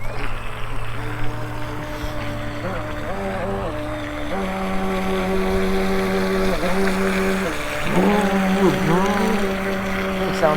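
Small remote control boat motor buzzing steadily on a lake during fishing, its pitch rising and falling as it runs and turns, fairly close, with people talking over it.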